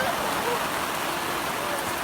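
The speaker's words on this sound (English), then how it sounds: "And it's raining." Steady rain falls in the Hoh rainforest, a dense, even hiss of drops pattering on surfaces and foliage close by, unbroken for the whole stretch with no other sound standing out.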